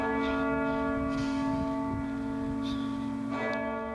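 A large early Gothic-style cathedral bell tolling, a loud sustained ringing tone with rich overtones that hums on throughout.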